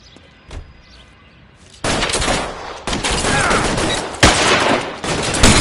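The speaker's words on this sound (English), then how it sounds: "Lay down some covering fire!" A shootout in L.A. Noire opens with a single distant shot, then breaks into dense, loud, overlapping gunfire from several weapons that keeps going almost without a break and surges again near the end.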